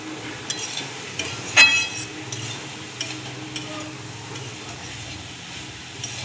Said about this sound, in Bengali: তেলেতে সবজিগুলোকে আগে ভালো করে আমি ভেজে নিচ্ছি